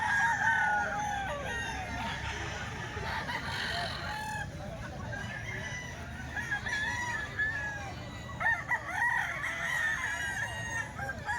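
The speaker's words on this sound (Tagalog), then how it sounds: "Ito yung mga manok ni Boss Rain mga bossing" Several roosters crow repeatedly with scattered clucking from other chickens, a busy, fairly loud farmyard chorus of overlapping calls that runs throughout.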